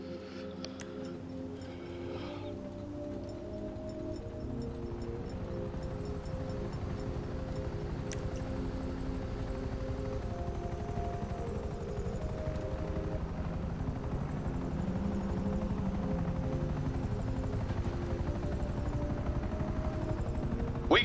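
Helicopter rotors thump steadily as an air team arrives in GTA Online, a constant loud drone that builds slightly over about twenty seconds, with game effects in the background and no talking.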